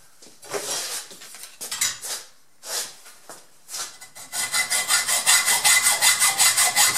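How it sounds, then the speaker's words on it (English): Hacksaw cutting through a steel exhaust pipe on a 1978 Trans Am: a few scattered strokes at first, then a steady run of quick, rhythmic rasping strokes, close and fairly loud, with no talking. "Now we're just going to take the hacksaw and cut this off right here."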